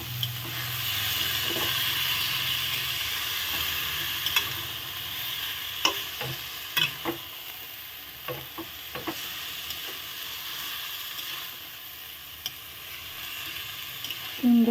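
Squash being fried and stirred with masala in a pan, a steady sizzle running throughout with scattered scraping clicks from the spoon, close and moderately loud, no talking.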